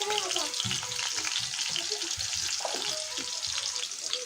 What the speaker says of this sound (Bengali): দেখো মাংসের আলুটা ভেজে নিচ্ছি